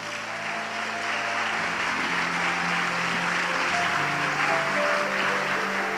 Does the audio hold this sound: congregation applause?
yes